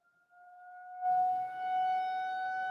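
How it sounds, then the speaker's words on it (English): Tornado sirens sounding in South Lyon, a steady wailing tone that swells louder and fuller partway through and holds, fairly strong against a quiet background, no talking. "It's the tornado sirens going off here in South Lyon."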